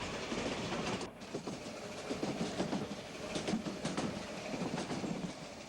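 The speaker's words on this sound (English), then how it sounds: "compound Mallet tank making easy work of the falling grades" A compound Mallet tank locomotive hauls a train down falling grades on the Corgo line through terraced vineyard and olive country, with steady rolling wheel noise and rhythmic rail clatter close by.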